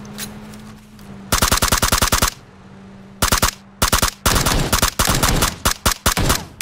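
Rapid automatic gunfire in bursts in the video game PUBG, loud and close, with short pauses between volleys and a low steady hum underneath.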